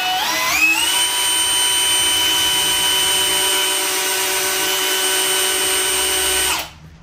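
A Bosch GSB 18V-150C cordless drill, in drill mode, spins up with a rising whine while drilling into metal, then holds a steady high-pitched buzz for several seconds before cutting off abruptly.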